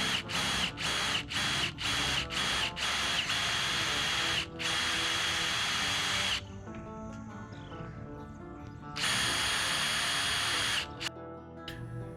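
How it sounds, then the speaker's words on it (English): A power drill whirs in rapid short bursts, then longer sustained runs with quieter mechanical clatter between, loud and close, drilling holes into the roof of a fifth-generation Toyota 4Runner. "it also requires you to drill several holes, 4 in total, into the top of your 5th gen."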